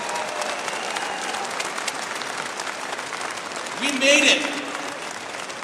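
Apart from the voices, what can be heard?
audience applause for candidates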